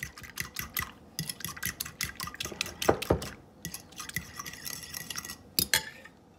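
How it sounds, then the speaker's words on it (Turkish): Quick, rapid clinking of a utensil whisking eggs in a bowl in a fast, steady rhythm, close and fairly quiet, with brief pauses. "İyice çırpacağım."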